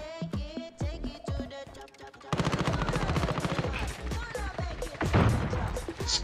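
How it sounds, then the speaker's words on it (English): Rapid gunfire from Call of Duty Warzone Season 4 opens with a few loud separate shots, then breaks into a dense, sustained automatic barrage close by, with more sharp cracks near the end. "Yeah, that guy's shooting at me."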